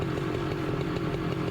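A chainsaw with a burred clutch runs at a steady, loud drone while its chain turns, alone and close with no talk.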